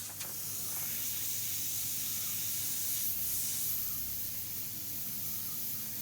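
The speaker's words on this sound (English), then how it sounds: "I want to keep the airbrush moving so I don't get a heavy build-up of the paint." Steady, faint hiss of an airbrush spraying paint during eagle underpainting, continuous and even with a slight swell midway, quiet and close with no talking.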